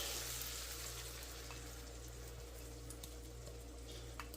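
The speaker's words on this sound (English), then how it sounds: "Alright, in goes our eggs." Beaten eggs sizzle steadily in a hot skillet, a continuous close crackle with faint hum underneath and no talk.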